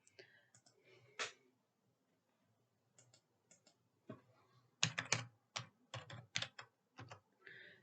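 A command is typed on a computer keyboard as a series of quiet, uneven key clicks with pauses, then a faster cluster of sharper keystrokes near the end, close and isolated.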